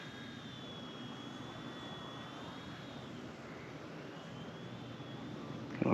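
A budget RC toy helicopter flies over a grassy field where kangaroos graze, giving a steady, thin high-pitched rotor whine over a broad wash of motor noise that holds level throughout.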